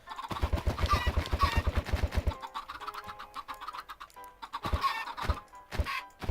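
Several Minecraft chickens cluck in a pen, with a rapid burst of short clucks followed by a quieter stretch and a few more scattered clucks near the end.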